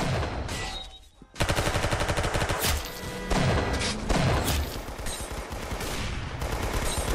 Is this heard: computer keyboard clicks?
no